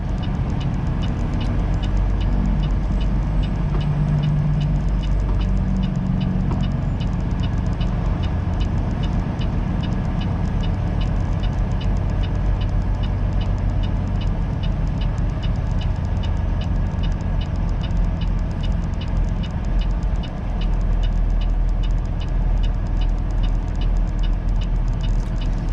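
Heavy haul truck pulling steadily in fourth gear on the road, a continuous loud low engine drone with road rumble and a faint regular ticking running throughout.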